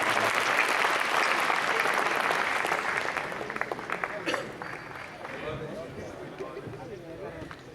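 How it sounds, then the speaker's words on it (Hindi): An audience applauds at a Hindi kavi sammelan poetry gathering, a loud crowd clapping that slowly fades, and a voice begins speaking near the end. "तालियां का शोर उठा करके आवाज दें दीपक"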